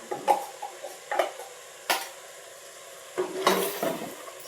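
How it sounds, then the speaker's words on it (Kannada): Ground masala for a country-style chicken gravy stirred and fried in a pan, with scattered scraping clinks of a spoon against the metal over a soft, intermittent sizzle, close and fairly quiet. "ಸ್ವಲ್ಪ ಹಸಿ ವಾಸನೆ ಹೋಗೋ ತನಕ ಇದನ್ನು ಫ್ರೈ ಮಾಡಿ."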